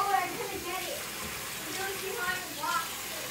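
Cold water runs steadily from a tap in a continuous gushing wash, fairly close, while a voice speaks intermittently over it.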